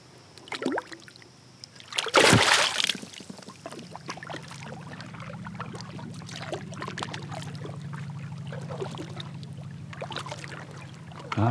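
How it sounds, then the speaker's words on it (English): Kayak paddled across water at sunset after a day of fishing, giving soft splashes and drips from the paddle strokes, one louder splash near the start, and a faint steady hum underneath. "It's about that time for me to paddle back to the launch."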